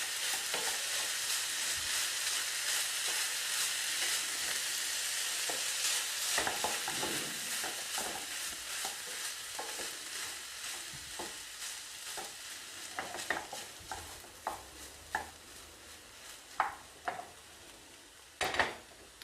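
Kedgeree with parsley stirred through in a pan to warm it, a continuous close sizzle that fades into a run of sharp spoon clinks and scrapes against the pan toward the end, with no talking.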